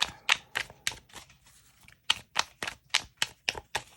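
Tarot cards snap and riffle in a quick series of crisp bursts, with a brief lull before the rhythmic shuffling resumes, close and fairly quiet.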